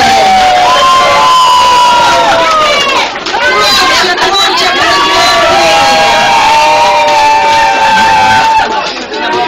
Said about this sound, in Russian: овации в зале!